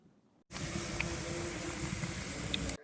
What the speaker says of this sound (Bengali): এবার তেলে নুচি গুনা সব দিকে ভেজে নেবো।